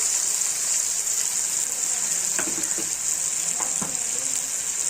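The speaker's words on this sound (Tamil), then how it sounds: "எல்லாத்தையும் நம்ம நல்லா அப்படி வதக்கிக்கலாம்" Onion, ginger and garlic sauté in oil for Madurai fish curry, giving a constant bright sizzling hiss with a few soft stirring knocks.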